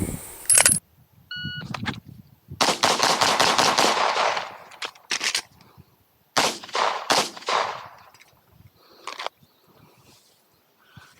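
A Glock pistol fires a series of sharp, loud gunshots outdoors, single cracks and quick bursts separated by short pauses, each followed by a brief echoing tail.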